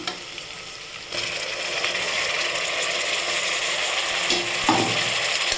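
Onions and tomatoes sizzle steadily in a hot pan for prawn biryani, a dense continuous frying hiss with occasional scrapes and stirring clicks close by.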